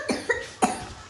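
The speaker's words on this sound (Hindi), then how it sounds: "खांसी हो रही है" A child coughs three times in quick succession, close and fairly loud, with each cough a short harsh burst over a faint background hum.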